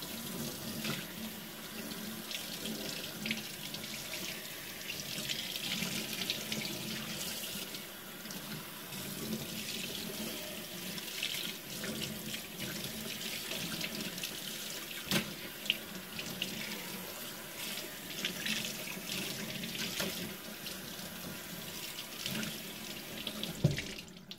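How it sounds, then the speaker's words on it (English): Water runs steadily from a sink tap while a mousepad is rinsed of soap, a continuous splashing hiss with small shifts as the pad moves under the stream, and no voices. "So now you're going to take your mouse pad that you just cleaned and you're going to just rinse all the soap"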